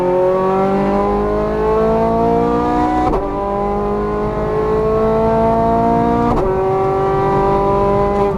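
A Ferrari F430 Scuderia revs hard on a race track, its loud, close engine note climbing steadily through the gears, with two quick shift breaks before it climbs again.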